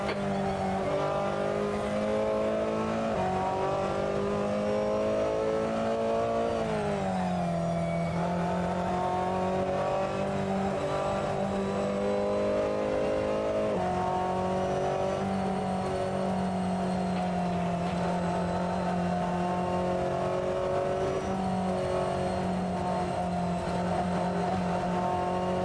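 Ferrari 488 GTLM race car at Mugello in a racing game, its engine note loud and close throughout, climbing through the revs with upshifts and a dip as it slows for a corner before pulling hard again, with no voices.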